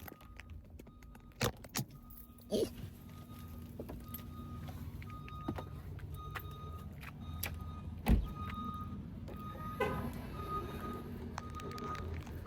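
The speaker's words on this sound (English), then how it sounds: "Turn our car on." Car started and driven off, a low steady engine hum with scattered key jangles, door and seat clunks, and repeated electronic chimes; a brief spoken word.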